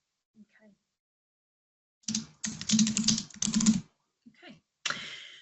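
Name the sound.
typing on a computer keyboard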